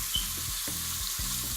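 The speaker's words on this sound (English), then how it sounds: "I have a hot skillet here with 3 teaspoons of olive oil, and I have the seasoned beef, so I'm just gonna add it to the pan" Seasoned beef hits a hot skillet with three teaspoons of olive oil and sizzles steadily up close, with a few soft low thumps beneath the hiss.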